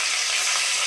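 Fish sizzling as it fries in hot oil, with mustard seeds and ginger in the pan, a steady dense crackle close up and alone for under a second.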